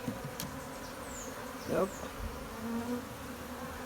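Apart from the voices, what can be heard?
Africanized honey bees buzzing during hive removal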